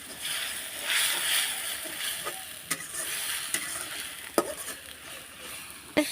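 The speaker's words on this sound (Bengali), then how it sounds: "এক চামচ লবণ হলুদ ধনিয়ার গুঁড়া মরিচের গুঁড়া সবগুলান ভালোভাবে মিক্স করে নিলাম" Raw cumin paste with a spoonful of salt, turmeric, coriander powder and chili powder stirred in a pan for a beef and raw jackfruit curry, a steady scraping sizzle with a few sharp spoon clinks against the pan.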